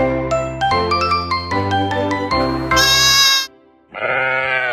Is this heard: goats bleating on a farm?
yes